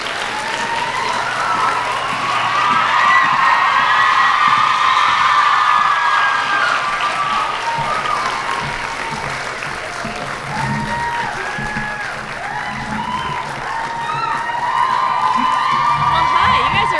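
Sustained applause and cheering from a sold-out crowd at a New York City book release party, loud and dense throughout with scattered whoops and shouts rising over the clapping.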